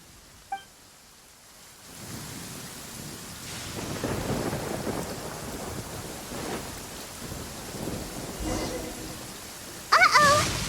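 Thunderstorm with rain in the video game Genshin Impact: a steady wash of rainfall with rolling thunder swelling and fading, plus a sharp crackle near the end, loud and close throughout.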